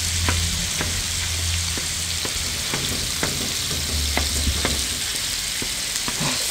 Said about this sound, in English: We're gonna start cooking our ground beef with all the rest of the ingredients.